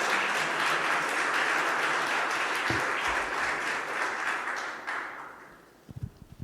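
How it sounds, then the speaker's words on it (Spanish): A church congregation applauds in sustained, dense clapping that slowly tapers away, leaving a few scattered claps and light knocks at the end. "Vamos a brindarle un aplauso al Señor."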